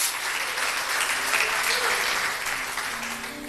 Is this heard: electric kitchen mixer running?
no